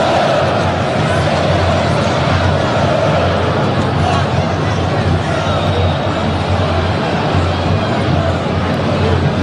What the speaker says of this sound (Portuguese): Ouça a Neoquímica Arena nesse momento, o Novo Horizontino vence e quebra o tabu.